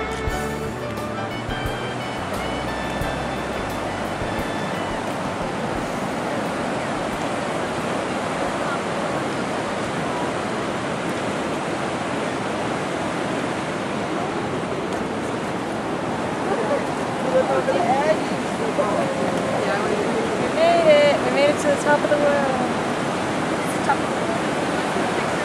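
A Yosemite waterfall roars as a continuous, dense wash of falling water, steady and loud throughout, with faint wind on the microphone.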